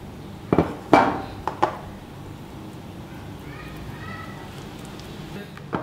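Wheat flour batter is slowly stirred in a bowl, with a few sharp utensil clinks against the bowl early on, then soft, quieter mixing; a faint voice is present in the background.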